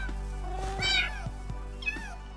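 A Minecraft cat meows twice in the PlayStation 4 edition of the game, clear high mews over a steady low background hum with a few soft taps.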